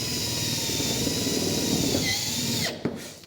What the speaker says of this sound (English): put a line of these tech screws, these self-sealing tech screws, just down the Z-bar